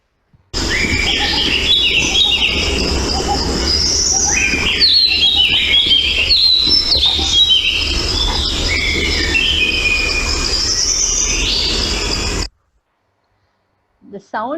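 A recorded bird call played back through a speaker, bright chirping and trilling phrases repeated over a steady insect-like buzz, loud and continuous for about twelve seconds before cutting off abruptly.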